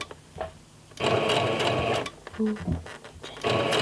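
A sewing machine stitches through a bulky piece of fabric toward a corner in short bursts of whirring, stopping and starting, with people talking quietly around it.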